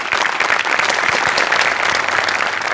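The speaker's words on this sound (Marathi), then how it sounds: "एकदा जोरदार टाळ्या" A studio audience at a Marathi comedy show breaks into loud, sustained applause, dense clapping from many hands that holds steady throughout with no talk over it.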